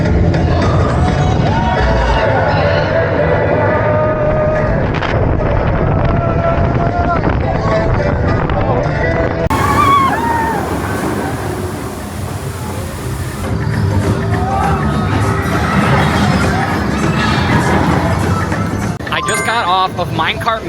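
The Mine Cart Madness roller coaster at Epic Universe runs with loud, continuous rumbling and clattering wheels on track, heavy wind buffeting, and brief dings, while riders shout and talk throughout.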